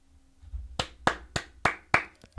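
Five or six slow, evenly spaced hand claps ring out alone in a quiet room.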